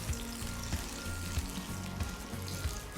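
Stuffed brinjal pakoras fry in hot oil in a steady, close, bubbling sizzle with soft crackles throughout and no voices.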